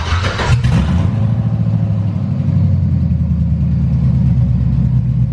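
A car engine with one rear spark plug wire disconnected runs rough and loud up close, opening with a burst of noise before settling into an uneven, lumpy idle rumble.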